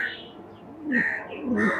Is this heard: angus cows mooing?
no